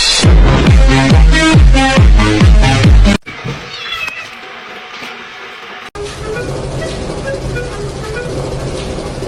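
A cat meows in a rapid series of loud, close, drawn-out cries for about three seconds, followed by quieter background noise.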